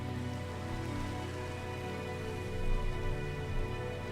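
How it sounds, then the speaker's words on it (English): Rain falls in the Minecraft video game as a steady, dense hiss of drops on surfaces, continuous and fairly loud throughout with no voices. "It's raining."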